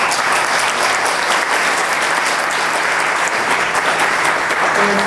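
A room full of people at a lecture on the Fukushima nuclear accident applauds, steady dense clapping that holds at an even level from start to finish.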